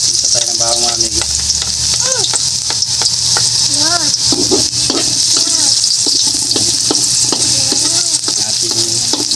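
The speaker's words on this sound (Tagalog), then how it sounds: "Mag-isa tayo ng bawang mga amigos." Garlic sautéing in a hot pan for a pork dish gives a loud, steady, hissing sizzle with occasional stirring scrapes, and a voice speaks now and then over it.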